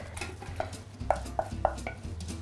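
Veg and lentil cottage pie filling spooned into a pie dish: several sharp spoon taps and clinks against the dish over soft scraping and stirring, close and moderately loud.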